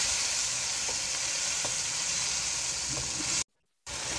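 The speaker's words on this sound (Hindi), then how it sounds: "अब इसको अच्छी तरह से हम भूनेंगे" Potato and fenugreek sabzi frying and being stirred in a pan, a steady dense sizzle with a few faint scrapes, broken by a brief silent gap near the end before the sizzling resumes.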